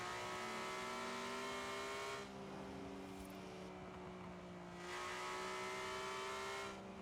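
A car's engine and exhaust in Forza Horizon 4 hold a steady, droning tone that drops back and then swells again as the throttle changes, loud and alone with no talk.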